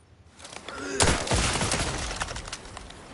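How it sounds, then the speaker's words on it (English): A grenade blast in Outer Worlds 2, one loud close boom about a second in, followed by a rumbling, crackling tail that slowly fades. "That was just the grenade."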